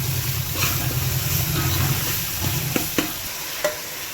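Sesame seeds, asafoetida and garlic-ginger paste fry in hot oil with a steady broadband sizzle, while a utensil stirs through them and lands a few sharp scrapes and taps against the pan near the end.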